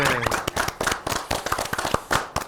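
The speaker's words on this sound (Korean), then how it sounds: "우리 골골 주민께 응원의 박수 한번 보내드릴까요?" A studio audience on a Korean health show claps in encouragement, irregular sharp hand claps close and loud, bursting and fading in scattered clusters with a faint voice at the start.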